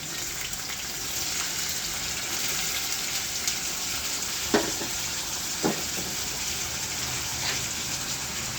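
Sliced potatoes fry in hot oil with a steady, close crackling sizzle, broken by a few louder pops and stirring scrapes partway through.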